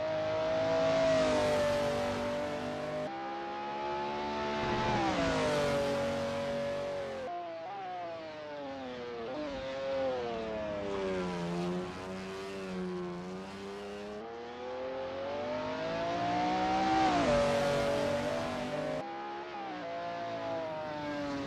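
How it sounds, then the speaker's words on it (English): McLaren F1 GTR race car at Sonoma in a racing video game, its engine note loud and continuous, climbing and falling through repeated gear changes and revs with no talk over it. "Sketty is getting to grips with the ASRL McLaren F1 GTR in this practice session."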